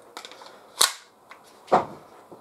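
Two sharp pops from a Glock 17 CO2 air pistol fired at a target from about ten yards, with a faint click before the first and little else around them.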